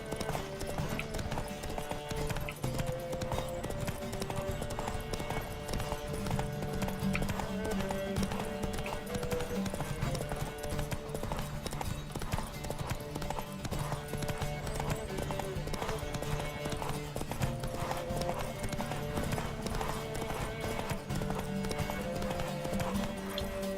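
Horses galloping in a race in the video game The Witcher III: Wild Hunt, a steady rapid clip-clop of hooves running continuously under game music and ambient sound.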